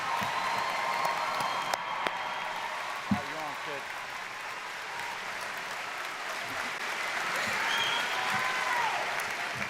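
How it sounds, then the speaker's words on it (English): A graduation audience at Pennridge High School's class of 2023 commencement applauds steadily, with scattered whoops and cheers and some voices mixed into the sustained, moderately distant clapping. "please join me in a round of applause congratulating Pennridge High School's class of 2023."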